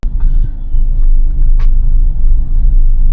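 Loud, steady low engine rumble of a car driving into the Eurotunnel, with road noise throughout and no one speaking.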